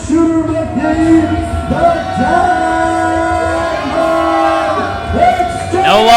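A wrestling arena crowd loudly jeers the Diamond Exchange tag team, Anderson and Shooter McGee, the CCW Tag Team Champions, a sustained wall of voices and whistles with rising shouts near the end.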